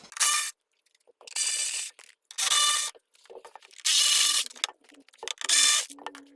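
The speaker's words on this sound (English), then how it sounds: "You have 7mm screws. I'm just gonna take them all out." A tool working loose 7mm screws from the rear bumper of a Mercedes G55: five bursts of close mechanical whirring and ratcheting, each about half a second to a second long, separated by short pauses, with no talk.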